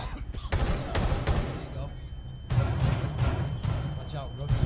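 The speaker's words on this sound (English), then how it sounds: "They're shooting through the floor at you." Bursts of gunfire from below in Rainbow Six Siege, with rapid shots punching up through the floor in clustered volleys, heard under players talking over voice chat.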